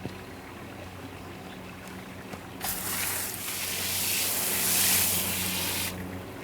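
Water poured from above onto a potted plant's soil mix of sand and compost, arriving as a sudden steady splashing rush that swells, then stops abruptly.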